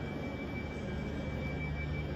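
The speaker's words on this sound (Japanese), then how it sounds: "さあこれがケンブリッジへ向かう列車になります。" A train idles at a London platform, bound for Cambridge: a steady, low rumbling hum with a faint high whine, close and continuous, with no talk.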